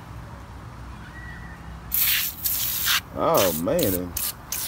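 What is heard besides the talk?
Gunk engine cleaner aerosol spraying onto engine bay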